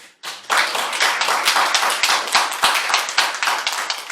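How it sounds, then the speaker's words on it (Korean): A congregation claps together at a Thanksgiving worship service in a Korean church, Cheonan Yedam Church: a dense, loud burst of applause that starts abruptly after a brief pause and holds steady. "하나님께 영광의 박수를"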